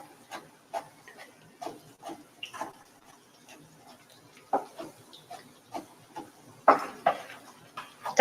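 A spoon stirs food in a cooking pot with faint, regular scraping knocks repeating about every half second, close by and fairly quiet, with a few louder clatters.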